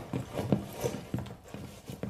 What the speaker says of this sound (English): Reloading mag!